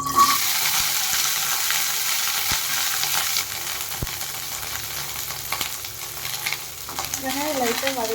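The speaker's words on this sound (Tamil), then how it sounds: "இப்போ எண்ணெய் சூடாயிடுச்சு நம்ம வந்துட்டு ஒரு பத்து பதினஞ்சு சின்ன வெங்காயம் உரிச்சு வச்சுருக்கேன் அதை இதில் ஆட் பண்ணிடலாம்" Ten to fifteen peeled small onions frying in hot oil for a crab curry, giving a loud, steady broadband sizzle with scattered pops and stirring clicks throughout, no one talking.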